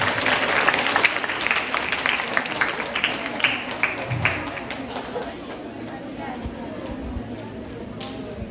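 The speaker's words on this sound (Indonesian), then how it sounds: "Tepuk tangan untuk jilid 2." Lively applause from an audience at an Islamic boarding school demonstration event, loud sustained clapping that gradually thins and fades, with faint talk underneath.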